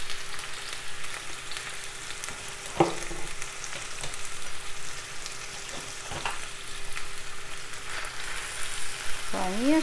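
Chicken pieces tipped into a preheated, oiled frying pan give off a steady, close sizzle throughout, with a few clatters and scrapes as they land and are stirred.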